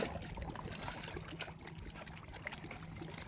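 Water trickling steadily at close range, a continuous soft splashing and dribbling with a low hum underneath and no clear voices.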